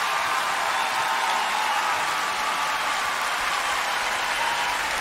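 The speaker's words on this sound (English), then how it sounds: "Probably the crowd going nuts, I assume." A concert crowd at the New Wave 2021 event applauds loudly and steadily for several seconds, a dense, continuous wash of clapping with faint cheering in the background.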